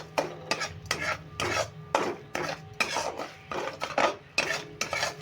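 Sugar stirred into caramel in a pan for biscuits gives rhythmic, gritty scraping strokes of a spoon against metal, about a dozen evenly spaced sweeps with quiet gaps between, close and distinct.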